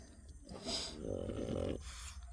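A dog with a soft palate problem breathes noisily, a raspy snoring snort drawn through the nose and throat in one long deep breath, close and fairly quiet, with no talking.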